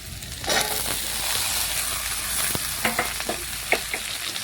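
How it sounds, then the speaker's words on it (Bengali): Tomatoes and potatoes fry in mustard oil with onions, giving a steady close sizzle with scattered scraping stir strokes and spatula clicks throughout. "আলুগুলো একটু নাড়াচাড়া করে ভেজে নিচ্ছি।"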